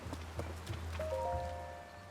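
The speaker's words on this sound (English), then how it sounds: "I know it's raining, but you'll be fine." Rain falling in Kakariko Village in Zelda: Tears of the Kingdom, a soft steady patter with a few brief game chimes and light taps over it, no speech.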